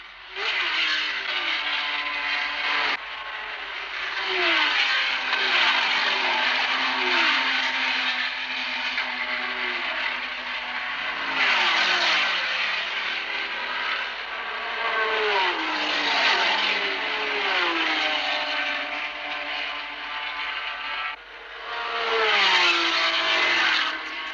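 Ferrari and Ford race cars at the 1964 Le Mans 24 Hours, high-pitched engines screaming past in repeated waves, the pitch sweeping up and down with gear changes and passes, loud and continuous.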